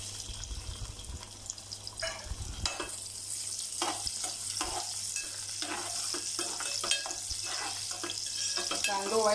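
Curry leaves and finely chopped onion fry in oil for a Malvani mackerel curry, giving a steady sizzle with repeated stirring scrapes and a low hum in the background.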